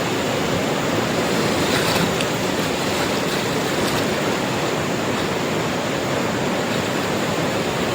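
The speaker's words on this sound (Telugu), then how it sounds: "మస్తు నీళ్ళు అయితే పోతున్నాయి" Fast-flowing water in a village stream rushes in a steady, dense, broadband roar that stays constant and close throughout, with no voices.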